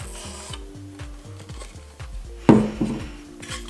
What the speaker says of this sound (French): On dévisse pour pouvoir accéder à l'intérieur du filtre fluidisé.